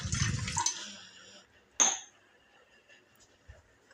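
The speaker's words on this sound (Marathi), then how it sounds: "त्यात आपण थोडंसं पाणी टाकूया" Water pours into a pot to start making tea at home: a brief splashing gush at the outset, then a sharp metallic clink and a few faint knocks in a quiet kitchen.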